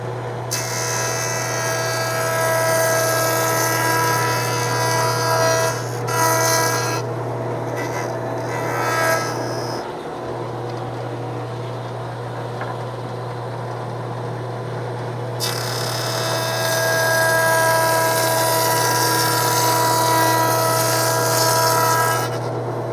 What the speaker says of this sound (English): Do a couple passes until it cuts all the way across.